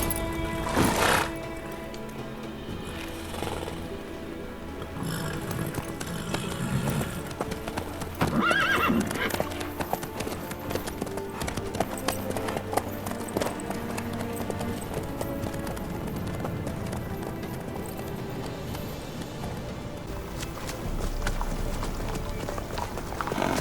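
Horse hooves clip-clop steadily through The Witcher 3 game world, joined by a clear whinny, with game music playing underneath and voices talking over parts of it.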